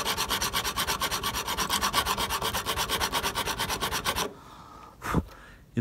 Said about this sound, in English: Actually, this is a 120 sanding block.